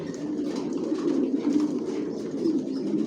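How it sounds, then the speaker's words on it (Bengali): Racing pigeons coo in a breeding loft, soft repeated low throaty calls from several birds layered close together, steady throughout with no talk. "কোয়ালিটি সম্পন্ন কবুতর পালি, কোয়ালিটি সম্পন্ন বাচ্চা রেডি করি"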